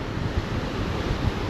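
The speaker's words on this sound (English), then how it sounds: "Big waves now too." Big ocean waves break and wash up a beach, reaching the foot of the access stairs on a barrier island, giving a steady, loud roar with wind buffeting the microphone and no voices.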